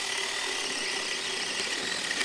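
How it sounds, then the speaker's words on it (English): A power drill fitted with a 25mm spade bit bores holes in wood for a wildlife nest box, giving a continuous high whirring grind that stays steady and close for the whole stretch. "The holes I made using a 25mm spade bit."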